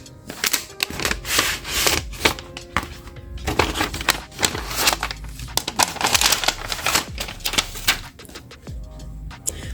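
A paper bundle from a stationery kit gets rustled and shuffled up close, crisp crinkling and flapping sheets in busy, continuous handling with a few sharper taps.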